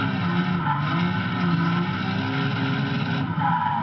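BMW E30 M3 Turbo drift car lapping the Castelloli circuit, a loud continuous engine roar holding steady with slight pitch shifts, no speech.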